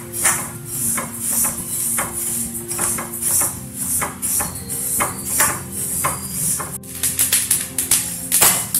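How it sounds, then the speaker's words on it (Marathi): Sesame seeds dry-roasting in a pan for sesame ladoos give off dense, continuous close crackling and tapping pops, fairly loud and steady throughout with no voices. "मस्त असे तुडतुड फुटेपर्यंत भाजून घ्यायचे आहे।"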